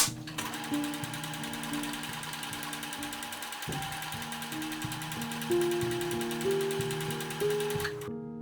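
A sewing machine stitches a seam on a hanbok, a fast, steady mechanical whir running close and continuously throughout, with no talking.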